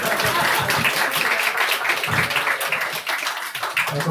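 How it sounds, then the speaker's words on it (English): A crowd at a Sunday feast applauds the day's cook, giving dense, steady clapping that holds loud throughout with a brief dip near the end. "Give a big applause."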